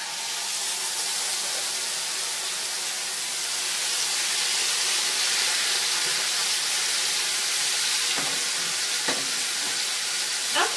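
Beef frying in a pan with only leftover oil and no fresh oil added, giving a steady, bright hiss and sizzle with a few sharper crackles near the end, close and continuous, no talking.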